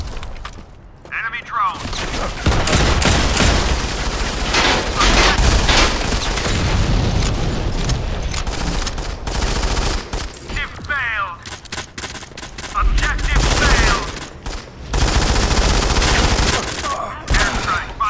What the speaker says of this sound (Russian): Заело, я стреляю, я на кнопку не нажимаю.